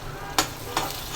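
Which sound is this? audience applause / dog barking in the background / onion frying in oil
onion frying in oil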